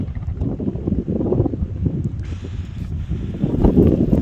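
Strong, cold wind blows outdoors at a roadside corner, a steady loud roar buffeting the microphone throughout with gusts swelling near the end.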